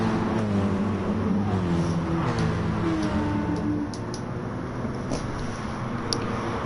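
Race car engines in Gran Turismo Sport at Blue Moon Bay Infield, a steady layered drone of several cars running close together, with faint ticking clicks on top.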